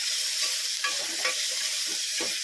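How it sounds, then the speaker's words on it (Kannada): Onions sizzle and fry with salt in a pan for a Kannada banana-stem gojju, a steady close crackle broken by several soft stirring scrapes, with no talk. "ಸ್ವಲ್ಪ ಉಪ್ಪು ಹಾಕಿ. ಆಗ ಈರುಳ್ಳಿ ಬೇಗ ಫ್ರೈ ಆಗುತ್ತೆ"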